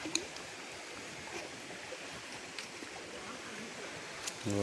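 Stream water flows steadily over rocks on Girnar, a soft continuous rushing heard at moderate distance, with a few faint knocks and a brief sound near the end.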